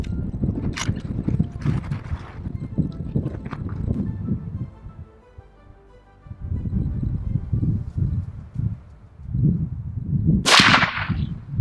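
Rifle shot fired at a warthog during a South African hunt, a sharp loud crack bursting out near the end, after stretches of rustling outdoor movement and wind.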